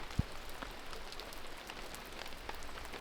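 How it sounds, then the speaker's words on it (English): Light rain patters steadily on the roof of a Jeep camper at night, a soft continuous hiss with a single sharper drip tap near the start and no voices. "relax to the sound of the rain on the Jeep"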